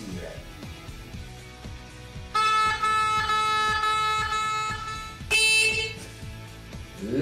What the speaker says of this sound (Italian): Un'altra cosa che non può mancare è il clacson.